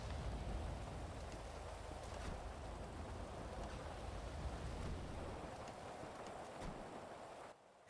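Steady rain falls in GTA V on the NoPixel roleplay server, a continuous broadband hiss with faint patters that holds throughout, then cuts off abruptly near the end.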